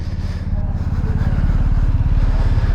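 A 2022 BMW R1250GSA motorcycle rumbles on a brief test ride, its engine a loud, steady close-up pulse that builds slightly as it moves off.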